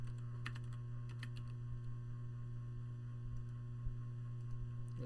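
Steady light clicking of typing on a PC keyboard while setting up a Windows server, fairly quiet and close, with a constant mains hum underneath.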